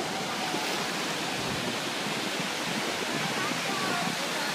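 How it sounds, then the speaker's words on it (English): Ocean waves break on a summer beach in a steady, fairly soft wash of surf that rolls on without pause. "You jumping those waves?"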